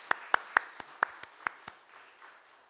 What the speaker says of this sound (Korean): 큰 박수 한번 보내도록 하겠습니다